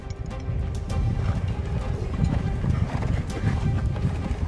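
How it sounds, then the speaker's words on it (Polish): Horse hooves clip-clop steadily and close on a training ground as a rider works individually with the horse, with a brief whinny and faint speech in the background. "Odbywa się indywidualna praca jeźdźca z koniem."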